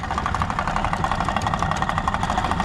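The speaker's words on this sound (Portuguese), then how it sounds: "O motor da lancha tá batendo, mano." The engine of a small mini speedboat runs with a constant loud, gritty drone and a fast, irregular knocking pulse throughout, signalling a damaged, seized motor.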